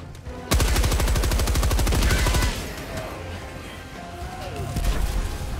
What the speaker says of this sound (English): It's auto shooting everything from up top.